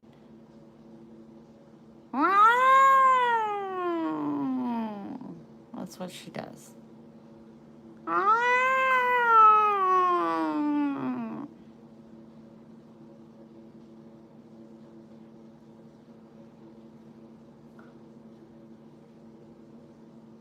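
A cat lets out two long, drawn-out low growls close by, separated by a short pause, with a brief voice heard in between.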